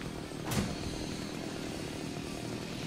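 A chainsaw fight in the Splatterhouse game gives a continuous low, gritty engine drone with one brief sharp burst near the start, mid-level and steady with no talk.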